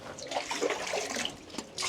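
Water splashes in a bucket, with a short run of close, soft sloshing and dribbling sounds ending in a louder splash.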